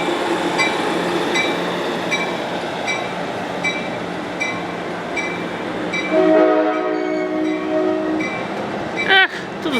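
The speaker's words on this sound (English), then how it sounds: "It used to have a good horn and now it doesn't." A passing train in Simi Valley, a Metrolink commuter, gives a steady rumble of rolling cars, then a short, weak horn blast rises near the end and is followed by a brief squeal.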